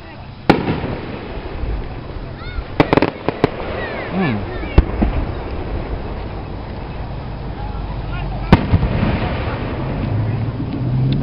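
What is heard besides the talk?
fireworks exploding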